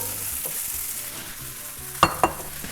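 Noodles stir-fried in a pan sizzle with a soft steady hiss under low rumbling scrapes, then two sharp clinks of a utensil on the pan near the end, close by with no talking.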